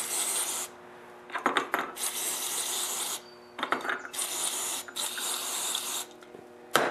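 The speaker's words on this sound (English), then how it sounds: "I'm going to spray these parts only with carb cleaner." Several bursts of hissing aerosol carb cleaner spray onto parts of an Echo PB265L backpack leaf blower carburetor, each lasting about a second, alternating with short quiet gaps and faint clicks, close to the listener.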